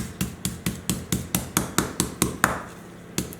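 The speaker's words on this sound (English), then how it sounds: "So just hammer it a little bit." Thick chicken breasts are pounded flat in a steady run of about a dozen close, sharp thuds at an even rhythm, with a brief pause near the end before two more blows, and no talking.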